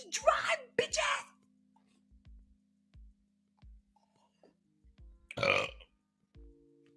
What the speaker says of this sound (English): I got shocked into burping.